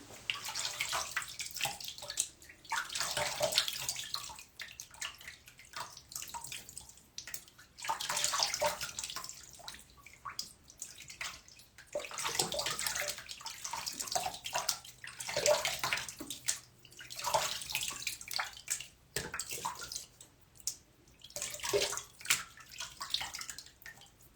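Water from a tap splashing and gurgling while a razor is rinsed between passes of a wet shave, a steady close rush that surges and eases in waves, with no talking.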